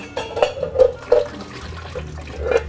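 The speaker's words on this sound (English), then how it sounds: "we're going to drain the hot water off" Hot water poured off boiled eggs in a kitchen, splashing and gurgling in uneven bursts with a few knocks of the pot, close by and moderately loud.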